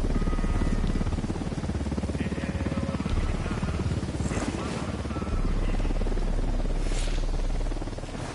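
Military helicopter in the Ghost Recon Wildlands video game, a loud low rotor thump and engine drone that stays close and steady throughout, with faint whooshing swells and brief game sounds over it.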